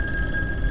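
Telephone ringing inside the psychological horror game In Sound Mind, a steady electronic ring with sustained tones holding at an even level throughout a brief burst, no voices over it.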